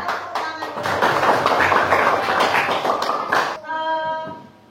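An Indonesian primary-school maths class claps out a counted rhythm chant: sharp, rapid hand claps mixed with chanting voices, ending with a short spoken phrase.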